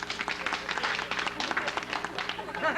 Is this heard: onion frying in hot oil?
no